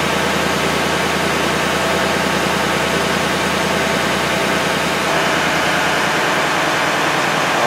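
A Ford 6.7 Powerstroke diesel engine with low boost runs steadily, a loud, close, continuous low rumble and drone with no pauses and no talking.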